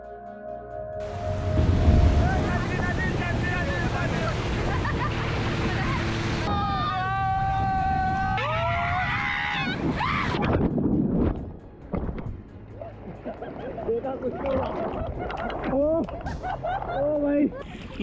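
A banana boat ride out on the sea at Ladghar Beach in Dapoli, Konkan, with a motorboat engine droning over wind and splashing waves, loud and continuous, while people shout and talk throughout.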